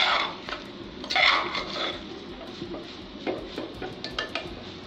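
Mutton keema with green spices is sautéed and stirred in a pan, with repeated clinks and scrapes of a spoon against metal over a soft sizzle, close and moderately loud with no voices.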